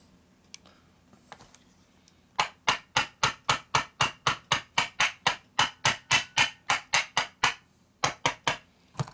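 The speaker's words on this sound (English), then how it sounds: "then I got to finish it off with a hammer" Hammer blows bending a metal part on a 1977-79 Harley four-speed FLH transmission: after a few scattered taps, a steady run of about twenty sharp, evenly spaced metallic strikes, a short pause, then a couple more, close and clear.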